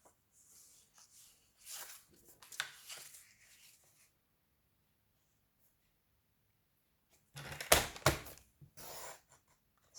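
Scissors snip and rustle through a sheet of patterned paper, cutting a 5 by 5 square for a Z-fold card; quiet, scattered crisp strokes come in two short clusters separated by silence.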